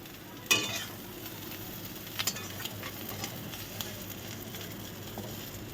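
Small prawns for a bottle gourd curry fry in a pan, a quiet steady sizzle with a sharp clatter near the start and a few light scraping stirs, no talking.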